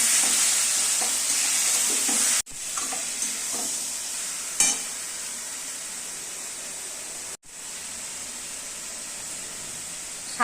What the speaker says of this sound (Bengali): কচুর ডাঁটাগুলো সিদ্ধ করে রেখে এখন এগুলো দিয়ে নাড়ব।